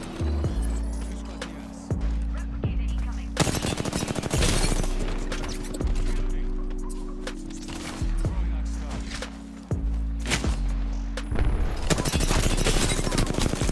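Rapid, loud gunfire bursts in the Apex Legends battle royale, repeated rattling volleys and sharp shots over a steady droning hum, with pauses between the strings of fire.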